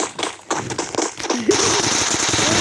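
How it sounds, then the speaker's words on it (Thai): A grenade goes off in a shooting video game as a sharp burst with crackling debris, followed by sustained noisy rumble, preceded by a series of quick popping impacts. "พี่ตังโยนระเบิดมาก"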